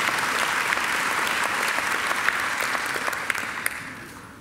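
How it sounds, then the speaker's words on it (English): Steady audience applause fills a university graduation ceremony hall, an even wash of many hands clapping with a few sharper individual claps standing out. It tapers slightly toward the end. "I think Michael deserves another great round of applause."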